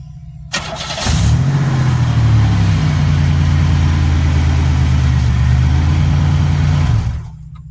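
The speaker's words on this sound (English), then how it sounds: "So, we start the car up here." A Buick engine cranks briefly and catches, then settles into a steady, close, loud idle that runs for several seconds before cutting off, with no voices present.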